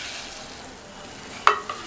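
Soaked sago stirred into boiling water in a pot, a soft bubbling simmer with a sharp clink of a spoon against the pot near the end, close and quiet.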